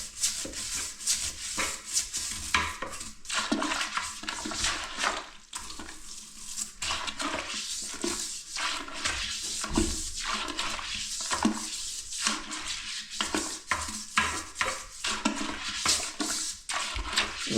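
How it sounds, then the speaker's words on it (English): A toilet brush scrubs a stained porcelain bowl with steady back-and-forth strokes, wet rubbing and swishing water repeating closely and loudly throughout with no talking. "So with the brush, just keep going back and forth like this."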